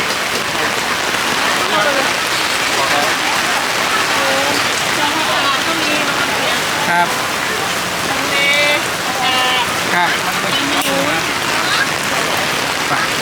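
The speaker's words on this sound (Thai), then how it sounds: "นี่หลบ หลบฝนกัน" Heavy rain from a storm pours steadily onto a surface at an outdoor market, a constant loud hiss, with a brief voice speaking faintly under the downpour.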